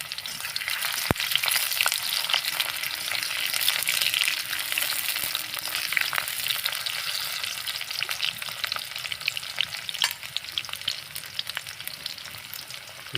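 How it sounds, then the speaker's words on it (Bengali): Chopped onion frying in a blackened karahi over a wood-fired clay stove, a continuous close sizzle and crackle with scattered sharp pops and stirring scrapes throughout. "এবার ঢেলে দিব পেঁয়াজ কুচি"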